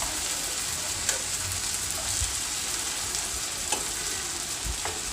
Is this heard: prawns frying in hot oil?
yes